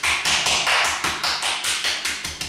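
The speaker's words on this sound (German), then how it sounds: "Was sich dann noch anbietet im Anschluss, ist eine Klopfmassage." Rhythmic tapping massage with the hands on the chest and lung area, a fast, even series of about a dozen close, crisp slaps and pats, loud and unaccompanied by talk.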